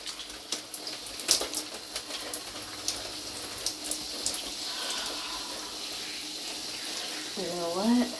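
Shower water running in a bathroom, a steady close hiss of spray with scattered splashes and patters throughout, and a voice briefly sounding near the end.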